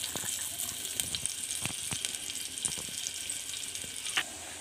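Onions frying in oil in a clay cooking pot, giving a steady bright sizzle with scattered pops and crackles, close and continuous with no talking.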